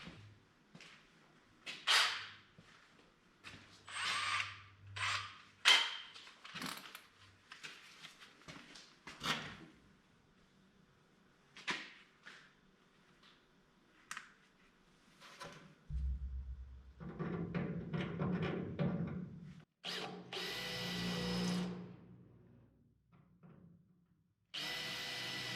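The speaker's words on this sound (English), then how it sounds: "I know when we drill these, we're going to see some rust come out." Bursts of drilling into a rusty Triumph Spitfire rear quarter panel during its removal, with short separate runs of the drill, then longer grinding stretches, and quiet gaps between them.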